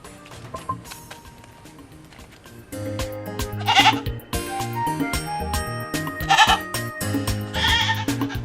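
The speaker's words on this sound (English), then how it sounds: "That's usually the goat" A goat bleats in a Nigerian comedy film scene, with several loud, wavering bleats rising over a busy background of music and ambient sound.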